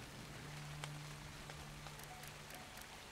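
Rain falling in the video game Dark and Light, a faint, steady hiss of drops on surfaces throughout with a few soft taps.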